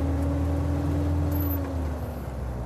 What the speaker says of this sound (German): Und man hört halt auch schon mal das Getriebe, wie es freundlich grüßt.